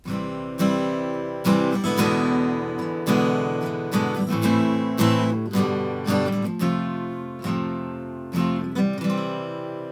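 A piano chord progression including an E dominant 7 chord, repeated struck chords in a steady rhythm with notes ringing and overlapping, clear and close with no voices.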